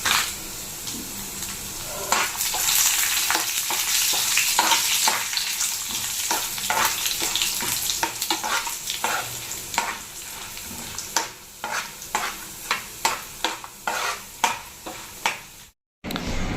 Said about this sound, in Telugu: ఎండుమిర్చి కూడా వేసేసుకొని మంచిగా లో ఫ్లేమ్లో ఫ్రై చేసుకోవాలి